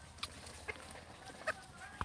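Chickens on a backyard poultry farm give a few short, faint clucks at irregular intervals over a quiet, low background.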